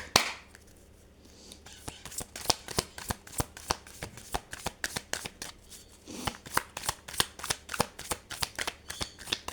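A deck of Moon Oracle cards shuffled by hand in a long run of quick riffling snaps and taps, close and crisp, with brief pauses between bursts.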